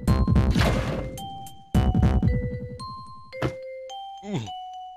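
A Ghost Trick video game plays several resonant bell-like chimes and dings over deep throbbing tones, with a rising warbling effect near the end, loud and close with no voices.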